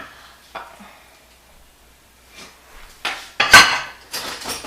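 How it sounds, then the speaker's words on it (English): A fork mixes an equal-parts cornmeal and flour dredge for catfish in a bowl, heard as sparse scraping and a few sharp clinks against the dish that build louder toward the end, with no talking. "Grab your fork, just mix it down a little bit"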